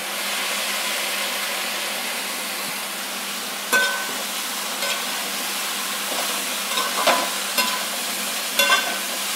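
Ivy gourd (kovakkai) curry is stir-fried in a pan, giving a steady close sizzle with occasional scraping stirs.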